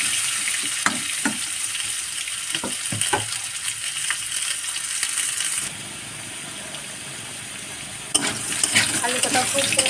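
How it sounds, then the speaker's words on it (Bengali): Potatoes fry in hot oil in a pan for a small-fish curry with green tomatoes, a steady sizzle broken by sharp scraping stir clicks, with a brief quieter stretch before the stirring picks up again. "লাল লাল করে আলু কটাকে ভেজে নেব।"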